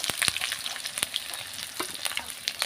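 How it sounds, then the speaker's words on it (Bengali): Onions and spice paste frying in oil in a pan, with a steady crackling sizzle and sharp spatters, plus a few stirring scrapes over a couple of seconds with no talking. "এই যে আমার পেঁয়াজ ভাজা হয়ে গেছে, লাল লাল করে ভাজতে নেব"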